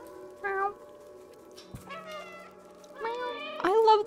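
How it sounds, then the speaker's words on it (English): Short meows from a cat character in the video game Stray come in separate bursts, quiet to moderate, each set against a steady low hum. "Press B to meow."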